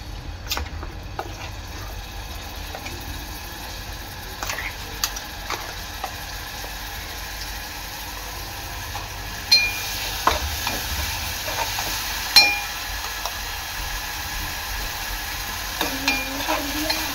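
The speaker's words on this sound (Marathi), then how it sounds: "तेल गरम झालेलं आहे, त्यामध्ये मी टाकणार आहे वाटण" Ground masala paste fries in hot oil for a stuffed crab dish, a steady close sizzle running throughout with occasional scrapes and taps of a spoon stirring, louder and busier in the second half.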